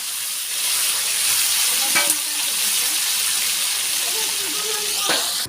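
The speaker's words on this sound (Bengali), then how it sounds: "আলু হলো, দেখো কত সুন্দর লাল লাল করে ভাজা হলো।" Potato pieces frying in hot oil, a loud continuous sizzle and hiss throughout with a couple of sharp utensil clicks, no speech over it.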